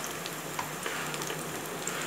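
Capsicum, chopped carrots and beans stir-frying in a pan for Chinese fried rice: a steady, close sizzle with faint crackles and small spatters throughout, no voices.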